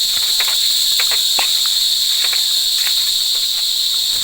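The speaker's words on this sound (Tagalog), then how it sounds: "May mga kuliglig na." Crickets chirp in a dense, loud, continuous high trill close by, with scattered clicks and no voices.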